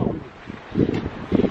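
Gusty wind outdoors buffets the microphone while walking along a street toward town, coming as low, rumbling surges that swell near the start, middle and end of the moment with no voices heard.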